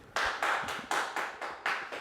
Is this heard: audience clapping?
yes